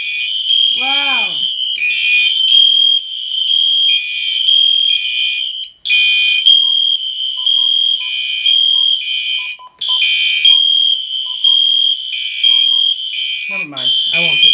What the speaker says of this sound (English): I might as well kick out the weather radio.